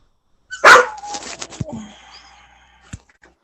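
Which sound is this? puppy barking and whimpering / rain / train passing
puppy barking and whimpering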